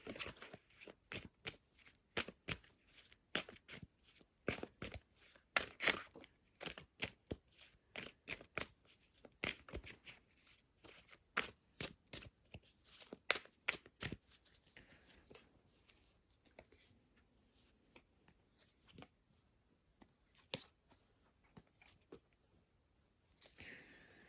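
Tarot cards being shuffled by hand, a long run of crisp riffling bursts and soft slides of cards, close and quiet, dense at first then thinning out toward the end.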